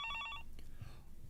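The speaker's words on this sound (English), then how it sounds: "an electronic beeping sound echoed out of the phone on the desk" A desk telephone in an office gives a short burst of bright, repeated electronic beeps, close and clear, which then cut off into a quiet room.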